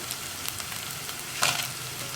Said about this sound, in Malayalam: നമുക്കിതിലേക്ക് നമ്മളെടുത്ത് വെച്ചിരിക്കുന്ന വറ്റൽമുളക് ചേർക്കാം